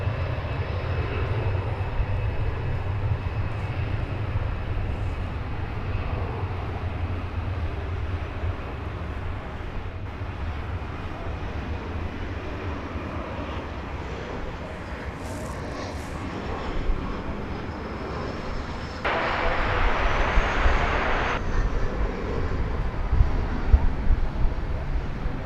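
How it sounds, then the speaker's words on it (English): A Frontier airliner taking off from runway 18 left at DFW Airport, heard as a steady, powerful jet engine roar with wind noise that holds throughout and swells louder near the end. "runway 18 left, clear for takeoff, Frontier flight 3325."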